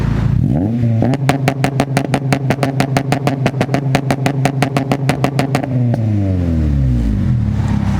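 An Acura RSX widebody engine floored at full throttle climbs quickly, then bounces rapidly against the rev limiter in a loud, stuttering pulse for several seconds before the revs fall away, close and with no talking.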